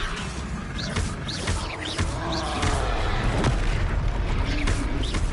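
Loud Confringo spell blasts in Hogwarts Legacy, heavy booming explosions with dense rumbling effects filling the scene and several bursts in a row.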